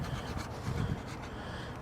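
A hand scraper rasps old residue off a truck part on a white cabover project, a steady close scratching rub with a couple of louder pushes, no voices.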